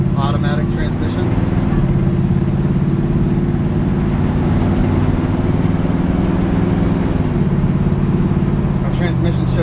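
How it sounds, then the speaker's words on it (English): A 1966 Chevy C-10 pickup with a small-block V8 and automatic transmission drones steadily while driving, the engine note dropping smoothly at two gear changes, loud and close throughout. "Our transmission shifts super smooth. Hope you can hear that in the video."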